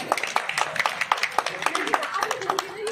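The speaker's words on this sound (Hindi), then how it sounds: "चलिए लावण्य के लिए भी एक बार तालियां बजाएं।" Scattered audience hand clapping at an outdoor community event, a quick run of distinct, uneven claps close by, with a voice talking over them.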